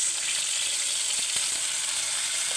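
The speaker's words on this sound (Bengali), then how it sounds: "পেঁয়াজটা আমার ভেজে নেওয়া হয়েছে, আমি এর সাথে একটু পানি অ্যাড করবো আগে।" Fried onions and green chilies crackle and sizzle steadily in a hot pan after water is added, a loud, even hiss that runs throughout with no talking.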